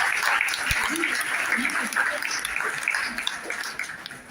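An audience applauds at a college lecture gathering to honor an English professor who is also an Urdu poet, with moderately loud, continuous clapping that thins slightly toward the end.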